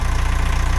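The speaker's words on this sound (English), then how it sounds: "I'm just running the engine now to warm it up so the oil is nice and thin and ready to drain" Narrowboat diesel engine idling to warm up before an oil change, a steady close low chugging with a fast, even pulse.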